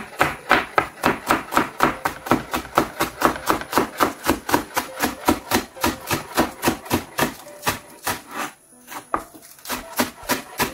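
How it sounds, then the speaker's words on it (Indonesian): Washed spring onions being thinly sliced with a knife on a board, a close, steady run of about thirty crisp, evenly spaced chops that slow slightly near the end, with no talking. "Jadi daun bawang ini udah kita cuci lalu kita iris tipis ya"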